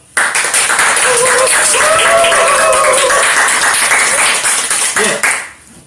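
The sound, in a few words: applause from staff at a live talk event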